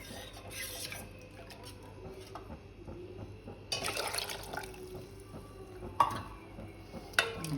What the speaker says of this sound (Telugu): కాబట్టి ఇంకా కొన్ని నీళ్ళు పోసుకుంటున్నాను